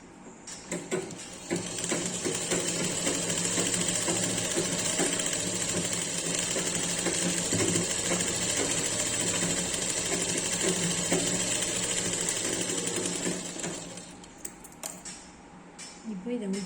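A sewing machine stitches piping cloth along a fabric edge, its fast steady mechanical whir running loud and continuous for most of the time before stopping near the end, with a voice talking over it.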